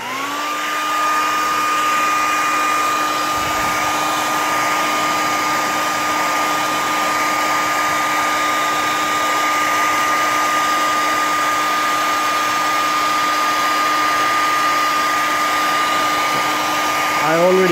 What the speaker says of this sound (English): all you have to use is a hair dryer, and it's gonna work